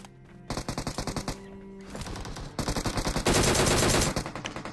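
Rapid bursts of M16 rifle fire in a video game, loud and close, coming in several quick rattling volleys with short pauses, the last stretch a dense sustained burst.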